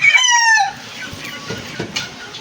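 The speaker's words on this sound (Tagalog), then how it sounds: "Daming manok." A rooster crows loudly and close by at the start, then a flock of many chickens clucks and scratches around in a yard, with fainter crows and scattered clucks carrying on steadily underneath.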